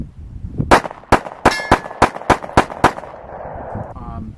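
Rapid pistol fire from Smith and Wesson M&P Shield handguns: eight loud, sharp shots in quick succession, each with a ringing metallic edge, followed by a fading echo.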